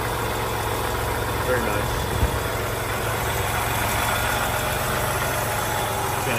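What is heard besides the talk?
1941 Graham Hollywood supercharged engine idling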